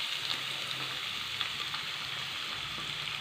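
Two long-sliced onions frying in hot oil in a pan, a steady soft sizzle with faint crackles, close and alone without talk.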